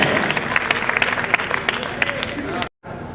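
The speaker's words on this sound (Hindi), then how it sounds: "हाँ, धोनी को आप जोरदार तालियां बजाइए," Live audience applause for the comic poet Sabras, a dense, continuous wash of many hands clapping with crowd murmur mixed in, cutting off abruptly near the end before faint noise resumes.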